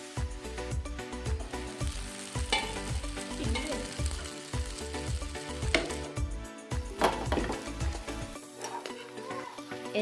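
Vegetables for an Assamese dish sizzle and fry in a pan, a steady crackling hiss with frequent clinks and scrapes of a stirring utensil, close and continuous.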